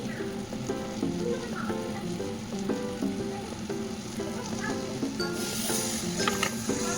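Onions and tomatoes sizzle in a pan with added spices: turmeric, coriander-cumin powder and chilli powder. A continuous frying hiss sits under a repeating rhythmic background pattern, up close and fairly loud.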